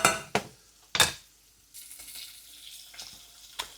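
Sausage and thinly sliced carrots frying in a pan, quiet sizzling with several sharp clinks of utensils against the pan, near and isolated.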